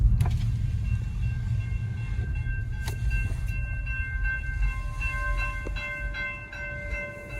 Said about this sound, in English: good thing it's right before this train right here